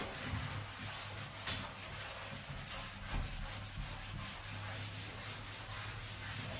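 A sponge scrubs a white bathtub in a steady soft rubbing, close and quiet, with a low hum underneath and a single brief knock partway through.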